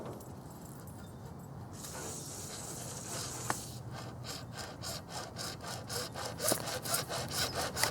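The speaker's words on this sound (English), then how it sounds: "we're going to cut them into 3-foot long pieces using this handsaw right here." A handsaw cutting plastic deep root pipe into three-foot pieces, rasping strokes that begin slowly and settle into a quick, regular back-and-forth rhythm, close and fairly quiet with no talking.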